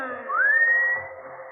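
A man whistles in a radio drama, one clear rising note that glides upward and then holds steady for about a second before fading.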